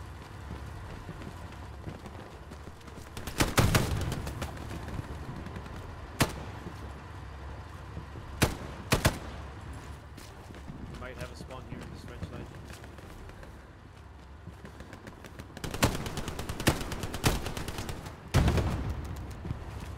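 Gunfire in Hell Let Loose, a World War II shooter: loud bursts of machine gun fire in short clustered volleys recurring throughout, over a steady battlefield rumble, with a player talking now and then.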